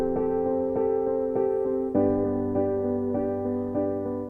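Synth chord pads in Cubase running the Beautiful Mind pattern preset, steady sustained chords shifting every half second or so, played alone and soft, ending abruptly.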